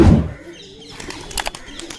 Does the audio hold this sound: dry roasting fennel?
no